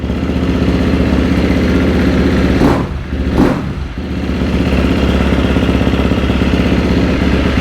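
A KTM 350SX-F four-stroke motocross bike idles loud and close with a steady pulsing drone, broken near the middle by two quick throttle blips.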